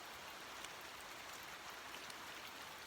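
Steady, cold rain hisses evenly outside a camper van, a constant soft wash of falling drops with occasional slightly louder taps, no voices.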